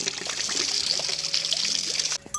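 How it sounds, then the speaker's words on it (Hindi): Water from a mountain spring stream pours steadily into a container near a hillside village with terraced fields, a continuous close splashing trickle throughout that briefly changes near the end. "तो अब एक बार यहाँ से पानी भर लेते हैं।"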